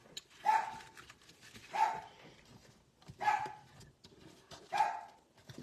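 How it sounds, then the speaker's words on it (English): A dog barks four times at a steady, evenly spaced rhythm, each bark moderately loud and somewhat distant, heard indoors during a card-making session. "Pardon the barking dog."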